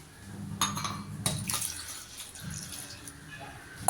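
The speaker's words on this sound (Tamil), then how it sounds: "நல்லா அது நீர்க்க இருக்க அளவுக்கு நம்ம தண்ணி ஊற்றிக்கலாம்" Water splashes and pours in uneven bursts into a bowl of ragi (finger millet) flour, close by, with soft clinks and stirring sounds between pours.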